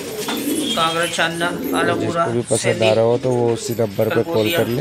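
Gola pigeons for sale in Maujpur, Delhi coo softly in the background while someone talks steadily over them in the foreground.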